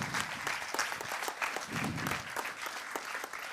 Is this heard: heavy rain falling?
no